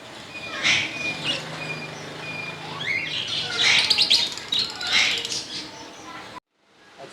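Pet birds, parrots and fancy pigeons, chirp and tweet in a bird shop market, repeated bright calls near and far over steady background chatter, with people talking throughout.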